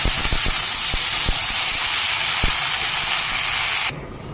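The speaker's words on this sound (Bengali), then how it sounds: "গ্যাসের কি শব্দ হচ্ছে, কড়াইটা প্রচন্ড পরিমাণে গরম হয়ে গেছে।" A gas stove burner roars under a very hot wok, a loud continuous broadband hiss with a few faint clicks, cutting off abruptly near the end; no speech.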